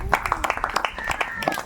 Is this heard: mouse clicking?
no